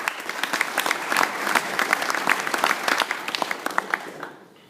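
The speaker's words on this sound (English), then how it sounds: "Let's give ourselves a round of applause" A roomful of car dealers at a Chicago gathering breaks into sustained, dense applause that holds steady for several seconds before quickly fading out.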